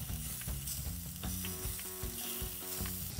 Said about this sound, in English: Go ahead and add your olive oil or cooking spray oil substitute and toss the chicken in. You'll begin to hear it sizzle.